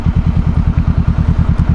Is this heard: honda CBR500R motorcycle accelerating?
yes